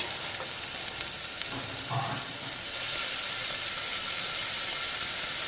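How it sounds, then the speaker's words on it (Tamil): Onion and tomato fry in oil with a steady, bright sizzle that stays even throughout, broken only by a brief soft knock near the start. "நல்லா குக் ஆகணுங்க இந்த வெங்காயமும் தக்காளியும் எண்ணெயில்"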